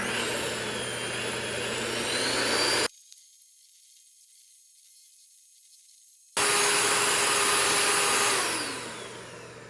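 An electric mixer whipping egg whites gives off a loud, steady motor whine, then cuts to a few seconds of near silence before resuming and fading toward the end.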